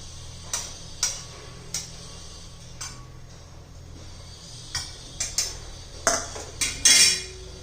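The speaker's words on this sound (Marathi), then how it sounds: "आता छान असं मी ठेचून घेते" Roasted chillies pounded in a stone mortar and pestle: sparse, sharp knocks spaced out at first, then quickening into a closer cluster of strikes near the end, each short and crisp over quiet background.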